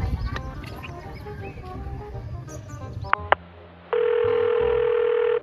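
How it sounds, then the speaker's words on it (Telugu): A telephone tone heard after dialing a number, starting with muffled voices and noise, then a couple of clicks and a steady electronic tone at the end. "మీరు డయల్ చేస్తున్న నంబర్ ప్రస్తుతం బిజీగా ఉంది"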